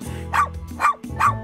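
A dog barks three times in a steady rhythm, each bark sharp, loud and close, with brief pauses between them.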